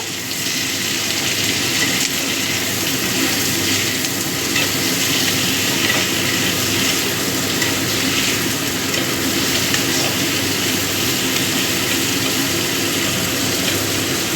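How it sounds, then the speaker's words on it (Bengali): Chopped onion frying in a hot pan for a prawn-head paste dish, a steady dense sizzle with faint stirring that holds evenly and fairly loud throughout, with no voices. "এবার দিয়ে দিচ্ছি পেঁয়াজ কুচি অল্প করে ভেজে নেব"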